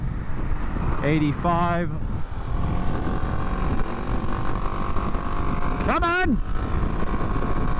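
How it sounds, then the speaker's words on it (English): A 2021 Kawasaki KLX 300SM motorcycle accelerating at highway speed, a constant engine drone buried under heavy wind rush, with a rider shouting briefly over it. "Yes, this bike can do highway speeds, and not just a minimum highway speed."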